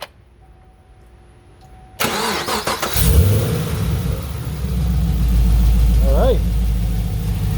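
A 2014 Chevrolet Camaro SS 1LE V8 cranks briefly and catches, then settles into a loud, steady rumbling idle close by after a quiet opening, with someone speaking briefly over it.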